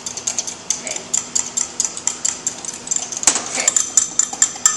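Spoon stirring homemade mayonnaise in a bowl: quick, steady clinks of metal against the bowl, several per second, close and continuous, with a louder scrape partway through.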